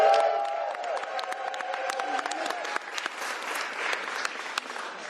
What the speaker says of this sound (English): Give them a big round of applause for their work.